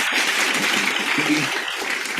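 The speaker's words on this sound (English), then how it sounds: "So let's welcome them with a big round of applause with our regional president" A meeting hall audience breaks into a big round of applause to welcome the regional president, dense clapping throughout at a steady, full level.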